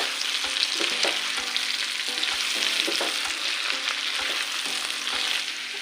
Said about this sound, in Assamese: মাংসখিনি মই আকৌ এবাৰ ভালদৰে লৰাই দিছোঁ